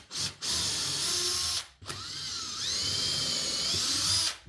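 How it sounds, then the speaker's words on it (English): A power drill drives a screw at an angle into a wooden mailbox post, whining in two bursts with a brief pause between, the pitch rising as the motor speeds up, close and loud. "When drilling on an angle like that,"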